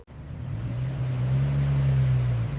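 A car engine rises from idle into a steady, close rumble as the vehicle pulls up. The low hum builds smoothly and holds for about two seconds with no voices.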